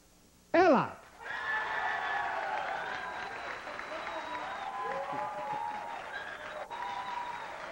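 After a short sharp whoop, a TV studio audience applauds steadily and fairly loudly for several seconds, with cheering voices mixed in.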